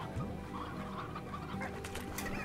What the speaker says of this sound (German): Ganz viele Hühner.